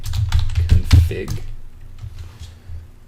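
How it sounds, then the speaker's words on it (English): Computer keyboard typing a short command, a quick burst of close, clicky keystrokes with someone speaking over them, then a quieter stretch with a few faint taps. "if we just type in ipconfig"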